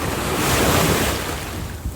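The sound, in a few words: ocean waves at a beach in La Union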